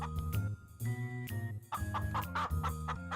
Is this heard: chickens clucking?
yes